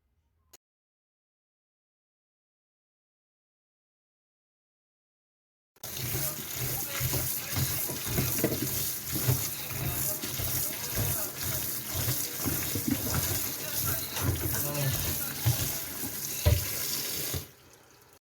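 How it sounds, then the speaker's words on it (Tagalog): Water pours steadily into a kitchen sink as it drains from a bowl of salted, sliced old cucumber, a continuous close splashing rush that starts abruptly after several seconds of silence and stops near the end. "na-drain na natin yung tubig"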